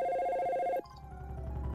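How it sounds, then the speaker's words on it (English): A telephone paging ring in the video game Dino Crisis: a steady electronic bell tone that cuts off abruptly partway through, leaving a low rumbling background. "If you set the line to hold, the phone will continue paging automatic."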